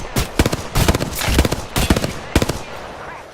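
Video game gunfire comes in four loud, close bursts of rapid automatic shots, separated by short pauses, over a few seconds.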